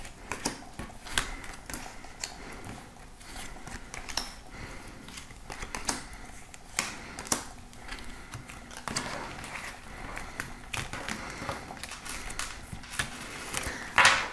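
Cards from an oracle or tarot deck are shuffled and drawn by hand, giving quiet scattered clicks, snaps and soft rustles at an uneven rhythm close by, with no talking.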